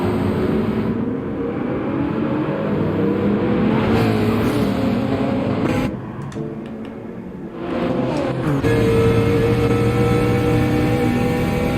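Race cars roar around the Nürburgring in a Gran Turismo 7 endurance race, a steady loud engine drone with passing cars, briefly dipping quieter midway before surging back.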